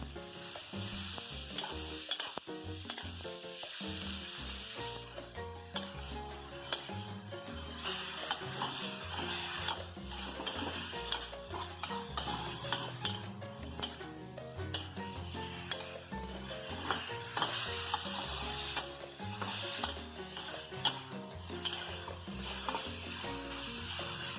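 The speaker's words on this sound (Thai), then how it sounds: "เราก็จะผัดแค่แบบ ให้หมูเขารู้สึกตึงๆอ่ะ" Pork sizzles and is stirred in a hot pan for a sweet braised pork dish, a dense continuous crackle with a steady scraping rhythm of the utensil, close up and without talk.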